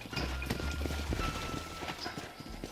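Horses' hooves clopping on ground in Red Dead Redemption, several animals walking with irregular overlapping strikes at close range, moderately faint over a low rumble of game ambience.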